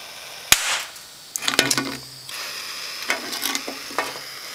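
Electrolytic capacitors on a circuit board burst with sharp cracking pops, one loud single pop followed by a sputtering cluster of crackles and hissing bursts, then a few smaller pops, all close up and without talk.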